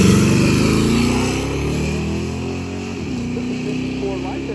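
Drag racing car accelerating down the strip, a loud close engine roar that holds steady then shifts pitch near the three-second mark, with crowd noise and talk in the background.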